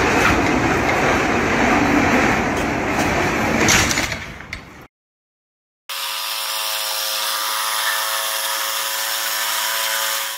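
A BNSF train carrying fruit rumbles steadily along the rails, with a short break of silence midway, then continued loud, even rolling noise and a low sustained hum.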